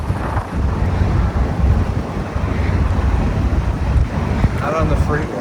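A 1957 Ford Thunderbird rushes along an open back-country road at speed, a dense roar of wind buffeting and road noise dominating continuously and loudly from start to finish.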